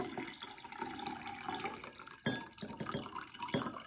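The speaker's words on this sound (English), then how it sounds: "we're going to fill our clean drinking glass here with water about 3/4 of the way full" Water pours into a clean drinking glass, a soft continuous splashing trickle with faint drips, fairly quiet and close, with no voices.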